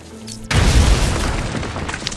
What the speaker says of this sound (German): Ja, müssen wir sprengen.